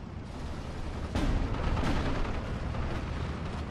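Steel Division 2 wartime battle game audio: a rumbling barrage of 20mm cannon and artillery fire with two sharp, loud blasts cutting through continuous booming, crackling combat noise.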